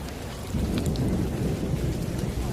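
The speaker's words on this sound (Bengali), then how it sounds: "এই যে একদম মুষলধারে বৃষ্টি শুরু হয়ে গেল" Heavy downpour drumming steadily with low rumbling thunder underneath, the dense roar swelling after a brief quieter opening and staying loud and continuous with no voices.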